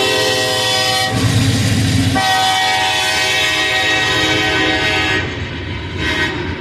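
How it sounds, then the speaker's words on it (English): A train rolling past a level crossing in Indianapolis, loud and close, its horn sounding in long sustained blasts over rumbling wheels and rail clatter, the horn cutting off near the end while the cars keep rolling. "Get train while I'm here."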